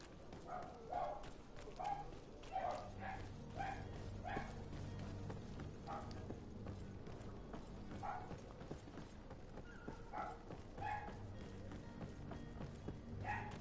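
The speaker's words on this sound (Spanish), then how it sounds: "Perdón por los ladridos, gente, si los escuchan." Dogs barking somewhere in the room during a GreedFall session on PS4, a series of muffled, fairly distant barks in loose bursts over the game's steady background sound.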